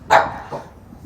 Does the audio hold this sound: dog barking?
yes